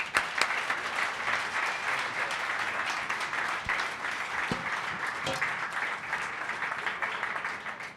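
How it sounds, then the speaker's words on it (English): An audience at a community coalition meeting applauds steadily, a dense even wash of clapping that holds at full strength for the whole stretch with no talk over it. "let's give Lloyd and Heather a big round of applause."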